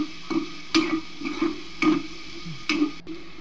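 Tomatoes sautéed with chili powder in a pan, with a spoon scraping and stirring in regular strokes over a soft, steady sizzle, close up and with no talking.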